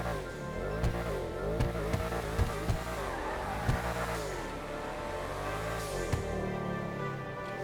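Pfister Astron Custom in GTA Online revving and accelerating through repeated gear changes, the engine note sweeping up and down with sharp shift pops and occasional tire squeal, close and alone with no talk.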